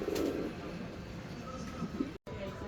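Fancy pigeons kept in a home loft coo softly in a low, throaty burble near the start, with faint rustling and background murmur through the rest.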